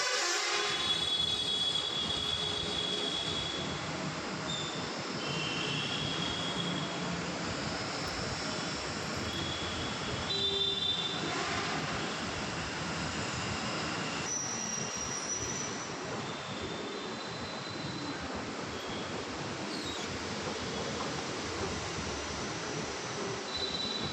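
A train runs on rails with a continuous loud rumble and rolling clatter, while high metallic wheel squeals rise and fade over it throughout.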